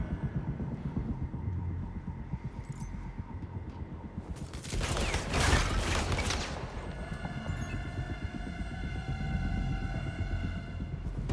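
A burst of gunfire rings out in the video game 007 First Light, a loud cluster of shots rising out of a low game soundscape, with background ambience and music continuing around it.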